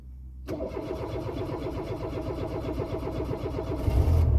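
After a brief silence, the engine of a turbocharged Peugeot 205 converted to ethanol cranks with a rapid rhythmic churning for several seconds, growing louder as it nears catching.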